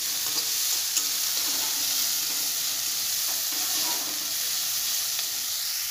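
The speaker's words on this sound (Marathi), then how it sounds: "असं कांदा फ्राय करून घ्यायचा आहे." Onion fries in oil while being stirred in a pan, giving a soft, even sizzle with faint scraping strokes and a couple of light taps, fairly quiet and without speech.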